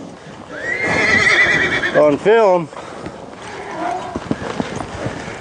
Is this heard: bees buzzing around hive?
no